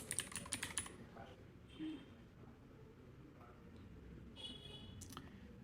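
A short burst of rapid clicks from a computer keyboard opens the moment, then gives way to quiet room tone with faint background noise.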